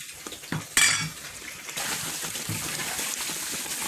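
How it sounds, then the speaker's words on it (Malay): Bones go into a pot of spiced soup with clanking metal and utensil knocks, a sharp clatter near the start, then a steady low bubbling and frying hiss close by. "Kemudian baru masukkan tulang."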